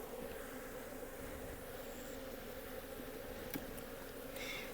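Mixed-breed Italian honey bees hum softly and steadily at the hive at dusk, a faint continuous drone with no voices.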